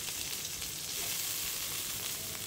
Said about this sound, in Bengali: পেঁয়াজগুলো বেশ লাল লাল করে ভাজা করে নিচ্ছি।